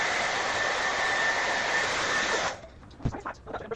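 A hair dryer blows steadily close by as a child's hair is dried, its loud even whirring hiss running for a few seconds before cutting off into quieter rustling and bumps.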